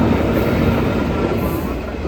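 A train rumbles past close by, a steady loud low roar of wheels and cars with no voices, lasting the whole stretch.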